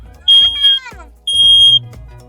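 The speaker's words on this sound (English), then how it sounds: "if we press and hold it down, it's loud, right?" Smoke alarm with its test button pressed and held, giving two loud, piercing high-pitched beeps, each under a second long, close by, with a person speaking briefly around them.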